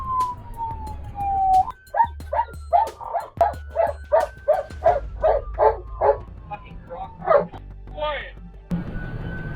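A police dog barks in a rapid run of about a dozen loud, close barks over a wailing siren.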